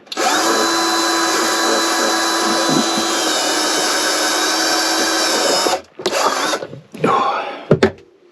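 A power drill with a 10mm bit whines loudly and steadily for several seconds, then stops and starts in a few shorter bursts as it cuts through material.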